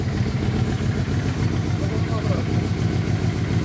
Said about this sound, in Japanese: ストライカー、エンジンを聞かせてもらえますか？